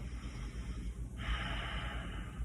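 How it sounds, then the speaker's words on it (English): Breathing sound from a person exhaling slowly during seated desk-chair yoga, a soft airy breath that swells into a steadier hiss partway through, close and fairly quiet with no talking. "As you exhale, breathing out any tension."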